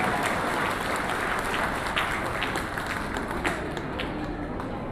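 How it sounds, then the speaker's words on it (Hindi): An audience applauds to welcome an MLA at a church Christmas gathering, steady moderate clapping from a hall crowd, sustained and even for several seconds. "जोरदार तालियों से उनका स्वागत कीजिए।"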